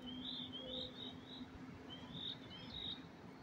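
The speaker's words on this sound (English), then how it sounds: "And I hear birds just chirping away." Small birds chirp outdoors in a quiet spot, short high repeated tweets in two brief clusters, faint and fairly distant over a soft steady background hum.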